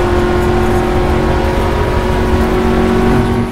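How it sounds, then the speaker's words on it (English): A race car in Project Cars accelerating hard at Curva Grande, engine roaring loud and steady with a sustained high-pitched whine throughout. "So head on down to Curva Grande, accelerating hard."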